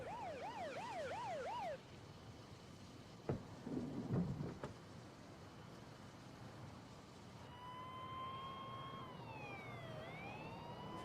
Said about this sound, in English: Hearing the sound of sirens, Rick drove toward them